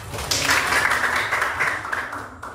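Small classroom group claps for a group presentation, a brief patter of hands at close range that holds steady for a couple of seconds before trailing off.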